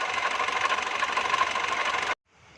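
A Foton engine runs with its drive belt removed, a steady mid-range mechanical drone with a faint knocking rattle, loud and close, before cutting off abruptly near the end.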